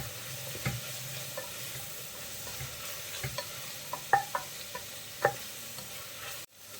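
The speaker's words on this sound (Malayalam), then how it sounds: "ഇനി നമുക്ക് അതിൻ്റെ കൂടെ നമ്മൾ എടുത്ത് വെച്ചിട്ടുള്ള പച്ചമുളക് ചേർത്ത് കൊടുക്കാം. എല്ലാം കൂടി നന്നായിട്ടൊന്ന് വഴറ്റിയെടുക്കാം." Sliced onions and green chillies sautéing in a pan for mutton curry, a faint, even sizzle with scattered light spoon taps and scrapes, ending in a sharp clunk.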